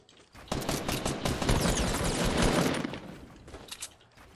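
Rapid automatic gunfire in Fortnite during a match, a dense burst that swells in and holds loudly for a couple of seconds before tapering into scattered fainter shots, with no speech.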